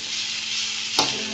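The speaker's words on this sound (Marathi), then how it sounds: "कांदा हलवत राहा तुम्ही, म्हणजे जेणेकरून खाली चिटकणार नाही।" Chopped onion frying in a pan for paneer curry, a constant close sizzle with a single short scrape of stirring near the end.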